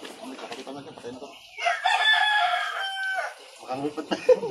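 A native chicken crows once nearby: a loud, drawn-out cock-a-doodle-doo set between stretches of people talking in Filipino before and after.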